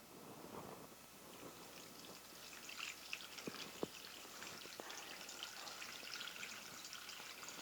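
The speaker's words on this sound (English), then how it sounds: "So now we're going to add some filtered water." Filtered water pours from a pitcher into an electric pressure cooker holding chicken bones for homemade stock, a soft continuous trickle and splash with a few sharper drips, fairly quiet.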